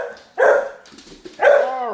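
A dog barks twice, close and loud, with a brief pause between the two barks.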